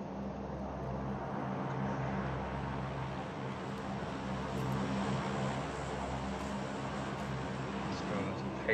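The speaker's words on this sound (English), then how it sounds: "I hear a vehicle. Oh, no, it's a plane." Airplane in the battle-royale game PUBG, a continuous broad propeller-engine drone holding steady overhead for several seconds, with players talking over it.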